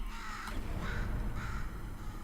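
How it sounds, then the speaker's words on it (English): A bird caws in the video game Portal 2, a few harsh crow-like calls over a dense steady game background. "Could you, murder this bird for me?"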